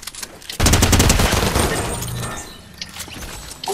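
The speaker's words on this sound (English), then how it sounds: "we got somebody else shooting us" Gunfire in Fortnite, a sudden loud burst of rapid shots that rings out and tapers into scattered cracks and faint shots over a few seconds.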